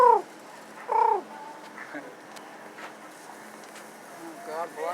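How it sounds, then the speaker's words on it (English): A pigeon in a busy market gives short, low coos, close and fairly loud at first, then fading under faint background chatter and market noise. "there's a pigeon in the market"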